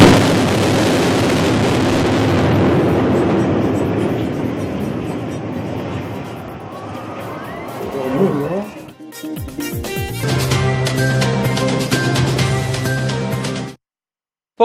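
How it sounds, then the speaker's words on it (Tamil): Controlled demolition explosion of apartment buildings: a huge rumbling blast roars for several seconds with heavy low crackle, then sharp bursts and collapsing debris before cutting to silence. "நவீன தொழில்நுட்பத்தில் வெடி வைத்து தரைமட்டம்"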